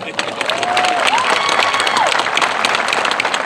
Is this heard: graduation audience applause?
yes